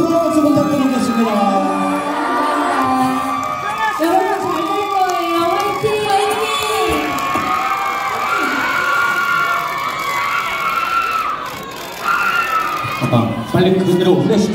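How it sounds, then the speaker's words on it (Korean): A concert crowd at an outdoor show in Uijeongbu cheers and screams loudly and continuously, with many high voices overlapping into a dense, sustained roar throughout. "다시 한 번 뜨거운 박수 부탁드리겠습니다"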